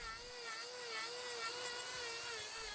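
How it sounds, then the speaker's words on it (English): An angle grinder trimming a cow's hoof held up in a crush, a faint, steady high-pitched whine running on without a break, with no talk. "we picked up our trusty angle grinder and set about fixing it"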